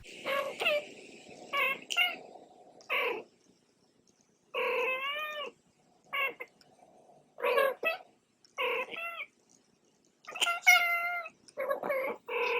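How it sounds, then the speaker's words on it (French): A cat makes a series of short, warbling chirps and trills, close by, with quiet gaps between each rising, bird-like call. "ce qu'ils font, c'est une sorte de roucoulement ou de gazouillement un peu comme les oiseaux"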